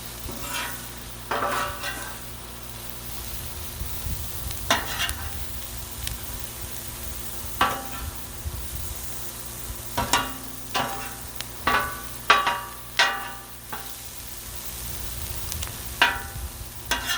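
Bacon and vegetables sizzle steadily on a Blackstone griddle outdoors, with repeated scraping and tapping of a spatula on the hot steel surface over a constant frying hiss.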